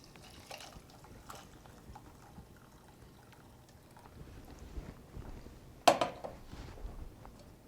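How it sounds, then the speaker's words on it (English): Chicken soup broth being strained, a faint trickle and pour of liquid with a brief louder splash near the end, quiet and close. "Then you strain that broth"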